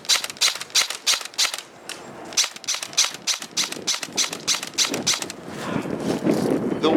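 An LCT LC3 G3 airsoft rifle firing outdoors in strong wind: a rapid run of sharp, loud snapping shots close by, then gusty wind buffeting takes over toward the end.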